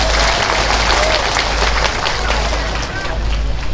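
Loud, continuous clapping from a crowd at an outdoor land-certificate handover event with a regent present, a dense roar of hands mixed with rumbling wind noise and faint voices.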